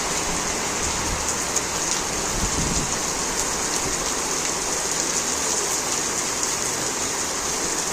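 Heavy monsoon-style downpour gives a dense, steady hiss for the whole stretch, loud and unbroken, with no voices.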